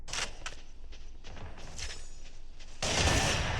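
Gunfire and footsteps in video game footage, heard as scattered broadband shots over a busy game soundscape, with a dense, louder burst of rapid fire near the end.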